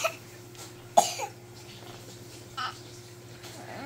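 A baby boy of eight months gives a few short, sharp coughs at lunch, a couple of them close together, over a quiet room with a faint steady hum.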